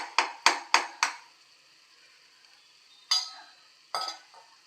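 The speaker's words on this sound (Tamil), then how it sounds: "அதுக்கு வெங்காயம், தக்காளி, இஞ்சி, பூண்டு விழுது எல்லாம் வணக்கிறேன்" Onion, tomato and ginger-garlic paste with fennel seeds being sautéed for prawn masala, heard as a quick run of four sharp spoon-on-pan scrapes, a pause, then two more scraping strokes over a faint sizzle.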